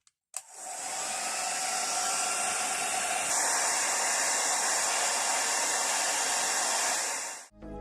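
A Remington On The Go hair dryer switches on and blows with a loud, steady whooshing roar, then cuts off at the end.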